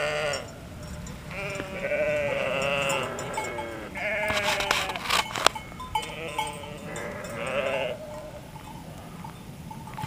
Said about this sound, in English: The mountain sheep.